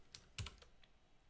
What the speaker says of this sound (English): I use a mechanical keyboard and it's got the red keys